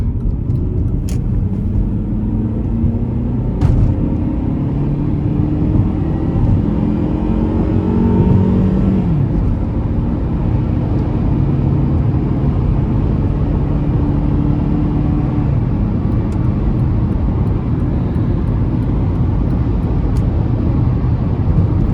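A 2004 Honda CR-V with a four-speed automatic accelerates hard on a drive, its engine note climbing steadily through low rumbling revs, then dropping at a shift around nine seconds before building again, loud and continuous with road noise.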